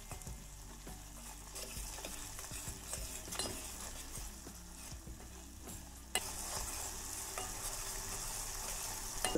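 Amla hair oil cooks over low heat in a pan, with a continuous gentle sizzle, scattered utensil clinks and scraping stirs, and a slight rise in the sizzle toward the end.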